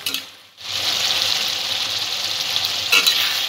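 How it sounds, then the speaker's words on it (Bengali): Ginger garlic paste sautéing with onion and tomato in a pan for Bengali chicken ghugni, a steady close sizzle after a brief quiet gap, with a stirring scrape near the end. "সব উপকরণগুলো 2-3 মিনিট একটু কষিয়ে নেব।"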